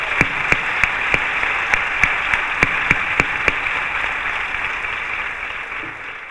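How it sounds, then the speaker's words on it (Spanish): Steady audience applause for a poster artist at a fair poster and book presentation, an even wash of clapping from start to finish, with a few sharp, distinct nearby claps standing out in the first half. "Pedimos un fuerte aplauso para Luis Rodríguez Castro"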